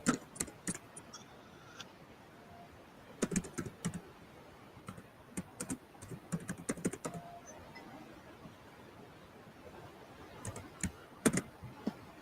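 Hard, fast typing on a computer keyboard comes in irregular bursts of sharp clacks over a quiet room hum, fairly faint and with no talk.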